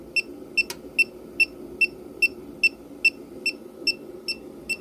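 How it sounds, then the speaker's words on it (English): Electronic refrigerant leak detector held at an HVAC evaporator coil, emitting a steady series of about a dozen sharp, evenly spaced beeps over a low rushing hiss of refrigerant. "here's the leak detector"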